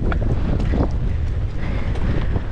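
Wind gusting and buffeting a microphone on a mountain bike trail, a loud rumbling roar that stays constant throughout with no talking.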